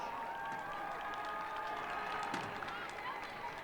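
Spectators at a high school football game applaud a marching band, a continuous wash of clapping from a distant crowd with faint voices mixed in.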